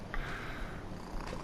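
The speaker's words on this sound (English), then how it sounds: "Envy, you gotta quit purring so loud." A pet cat named Envy purring close by, a soft, rough, continuous rumbling with a steady pulsing rhythm, fairly quiet overall.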